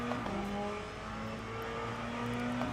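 Simulated race car engine from Le Mans Ultimate, a Ferrari or Porsche racing through a corner, with a steady loud engine note that dips slightly then builds as it exits, close and alone without talking.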